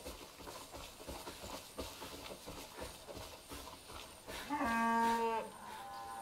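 Cow in Far Cry 5 gives a loud, drawn-out moo near the end, after a stretch of busy game ambience with scattered thuds and clatter.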